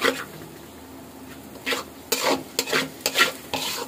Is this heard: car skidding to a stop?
no